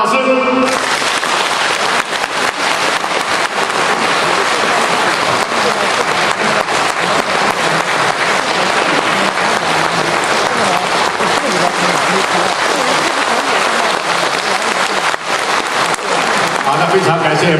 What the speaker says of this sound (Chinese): 非常感谢朋友们热情的掌声